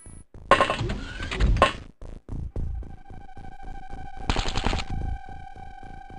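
Video game gunfire crackles in two short, dense bursts of rapid shots, loud and close, separated by quieter thuds and a low steady tone, with no voices over it.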